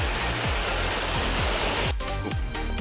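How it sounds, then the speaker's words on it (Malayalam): A waterfall beside a trekking trail in Nepal roars as steady, dense rushing water, loud and continuous, with a few faint knocks under the flow. "ഇവിടെ ഒരു വെള്ളച്ചാട്ടമൊക്കെ ഉണ്ട് കേട്ടോ"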